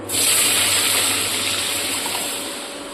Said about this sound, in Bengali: এরপর সিদ্ধ ডালটা ঢেলে দিলাম